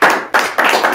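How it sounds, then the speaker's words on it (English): Brief applause for a bullpen training group, three quick bursts of close clapping in about a second, no talking. "Big round of applause for you guys."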